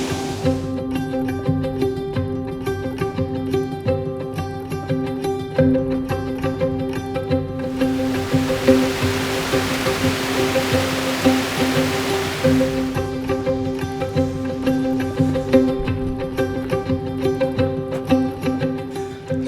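A waterfall rushing in the outdoors, heard as a broad, steady roar that swells for several seconds mid-way while continuous music plays over the whole stretch.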